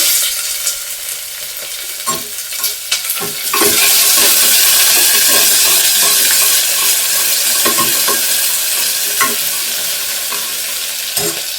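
Onion and curry leaves dropped into hot tempering oil for a vegetable kurma, a few stirring clinks followed by a sudden loud surge of sizzling that stays strong, with occasional spoon scrapes against the pan.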